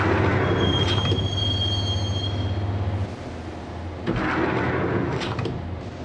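A subway train rides along in the video game Max Payne (PS2, 2001), its carriages rumbling with a high, steady wheel squeal; the low drone drops out briefly before resuming.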